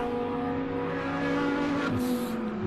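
Race cars lap the circuit at Beacon Corner in a SAGTRA race, giving a steady, loud engine drone whose pitch drops sharply as the cars brake into the corner.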